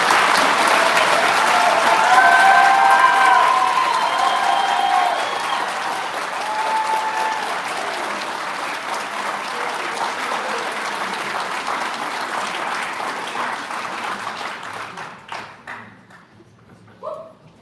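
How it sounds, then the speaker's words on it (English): A commencement audience gives the graduates a final round of applause, a long, dense wave of clapping with a few whoops early on, gradually thinning and dying away near the end. "Let's give all the graduates a final round of applause"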